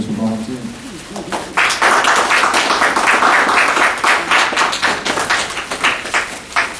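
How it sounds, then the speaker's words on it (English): Audience at an entrepreneur seminar applauds volunteers, a dense round of clapping that swells after a quieter start and holds steady with voices mixed in. "please take this time to give them a round of applause just for volunteering"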